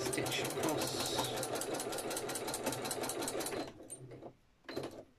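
A sewing machine whirs steadily as it stitches across a quilted needle case made with the quilt-as-you-go technique. The rapid motor buzz runs close and loud for several seconds, then stops and briefly restarts in a short burst.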